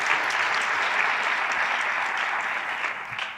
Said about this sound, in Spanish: Bueno, un aplauso a eso